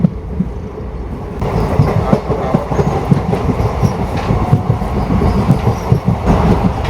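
Okha train running fast on double track at around 90 km/h, with a loud, continuous rumble and steady rhythmic clickety-clack of wheels on rails close by.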